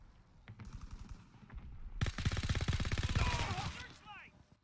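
SMG gunfire in Call of Duty WW2: a short burst of rapid shots, then a longer, louder sustained stream of automatic fire at a fast, even rate, followed by a ricochet-like whine, with voices talking underneath.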